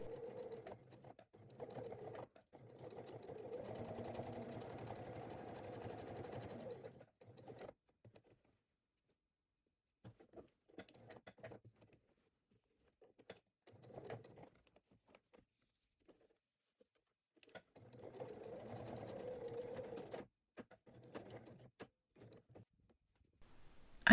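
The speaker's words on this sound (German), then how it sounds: "Die Tasche wird nun von dem Knick knapp an der Kante bis zu dem anderen Knick auf das Außenteil genäht" Sewing machine stitching a bag pocket onto the outer panel, running in steady whirring bursts of several seconds with quiet pauses and small clicks in between.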